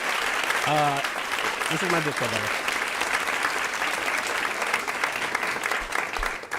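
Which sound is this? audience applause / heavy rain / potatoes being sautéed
audience applause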